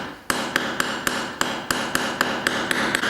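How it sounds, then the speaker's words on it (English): A small metal piece for a silver bracelet is hammered flat on a metal surface, giving about a dozen sharp, ringing strikes in a steady rhythm, close and alone. "So if you could just hammer that slightly on the metal surface"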